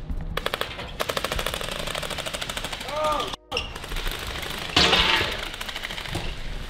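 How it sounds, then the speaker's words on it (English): Rapid bursts of gunfire rattle in quick repeated volleys, fairly close, with a brief silent gap midway and voices shouting faintly underneath. "They're shooting me."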